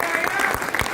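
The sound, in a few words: loud audience applause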